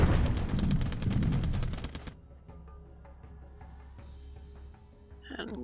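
Bombing effect in a WWII Pacific strategy game: a rapid rattling barrage of explosive bursts for two seconds, then quieter scattered ticks and a brief tonal blip at the end.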